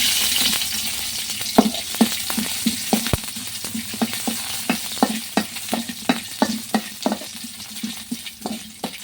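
Ginger and garlic fry in coconut oil with fenugreek seeds, a steady close sizzle broken by a regular rhythm of spatula scrapes and taps against the pan.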